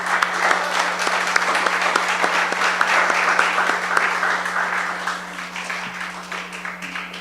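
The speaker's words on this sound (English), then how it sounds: "May I ask for a round of applause for our Laredo" Sustained applause from a crowd, steady clapping throughout that thins slightly toward the end, with a low constant hum underneath.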